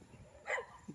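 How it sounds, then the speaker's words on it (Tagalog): A dog barks once at strangers near a hilltop farmhouse with rambutan trees, a short sharp bark standing out over quiet outdoor background, with a faint second yip at the end. "Hindi kami kilala ng mga aso. Kaya batok ng batok."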